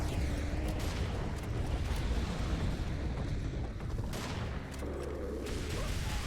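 Automatic shotgun fire from the Serious Sam video game, a dense unbroken barrage of loud blasts and booms filling the whole stretch with no talking.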